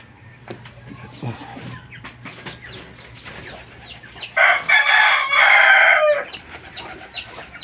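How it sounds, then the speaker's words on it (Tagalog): A rooster crows loudly in one long, strained call that breaks partway through, with scattered clucks and farmyard noise before it. "Yung aking mga alagang tandang."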